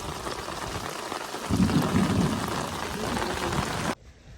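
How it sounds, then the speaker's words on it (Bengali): Dense, steady hiss of heavy rain pouring down, constant and enveloping, ending abruptly. "বৃষ্টি থামার নাম নিচ্ছে না প্রচুর বৃষ্টি হচ্ছে"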